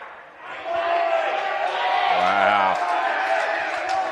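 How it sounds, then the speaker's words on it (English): Crowd cheering at a lawn bowls semi-final between Raymond Terrace and Warilla, a steady, fairly loud swell of voices that rises after a drive knocks the jack out of bounds, with commentary talk over it. "that cheer here in the background was a drive to get the jack out of bounds"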